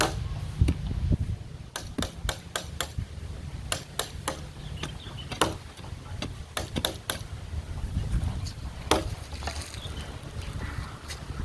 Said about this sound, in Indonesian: Tanahnya lumayan keras ya, jadi pakai gancu.